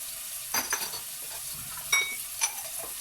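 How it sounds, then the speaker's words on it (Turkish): Spices and melting butter are stirred in a pot for green lentil soup, with a few clear spoon clinks against the metal over a faint sizzle in a quiet kitchen. "Bunları da güzelce bir karıştırıyorum."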